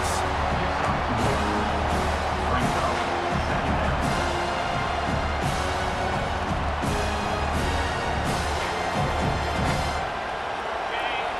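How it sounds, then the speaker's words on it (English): Crowd roaring at an LSU versus Penn State football game, a loud, steady stadium din with rising swells of cheering that holds across the whole stretch, with broadcast commentary running over it. "The roar of the crowd trying to fuel this defense to keep them pinned in their own end"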